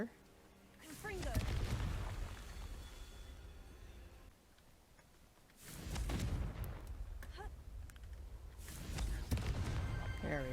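Confringo fire spell blasting rocks in Hogwarts Legacy, heard as three loud booming bursts spaced a few seconds apart, each followed by rumbling debris, with a person talking in between.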